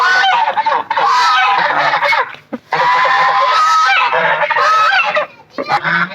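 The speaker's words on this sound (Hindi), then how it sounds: "ये रहा बतके बतके बतके" Loud, close honking from several birds, calling in repeated overlapping bursts with brief pauses between them.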